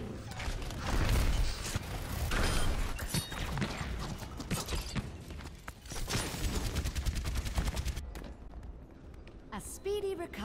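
Rapid, dense gunfire and chaotic combat effects fill a competitive Overwatch match, continuous and loud for most of the stretch, with a player talking over the action.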